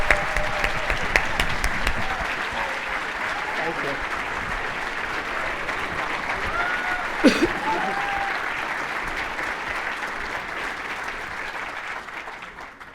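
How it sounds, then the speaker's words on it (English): Sustained applause from an evening charity event audience for a scholarship recipient, steady clapping that carries on for many seconds, with a brief spoken thanks partway through. "Let's give him another round of applause, everyone."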